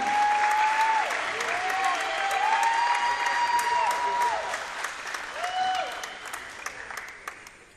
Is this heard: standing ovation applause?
yes